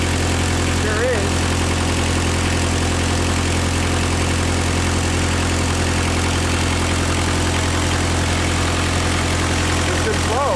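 A Perkins diesel engine on a Genie lift idles steadily throughout, a loud continuous low rumble with a constant hum and no voices.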